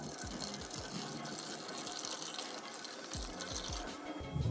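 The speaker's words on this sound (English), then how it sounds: "to add a little bit of a nice flavored smell, and I'm going to pour this in the Hoover" Scented liquid pours into the water container of a Thomas Perfect Air vacuum cleaner, giving a steady trickling, splashing flow that runs without a break from near the mic, with no talking over it.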